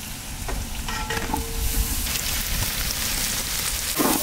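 Chopped onions hit a hot pan already holding star anise, cloves, garlic and ginger, giving a steady close-up sizzle with frying crackle and a few stirring scrapes throughout.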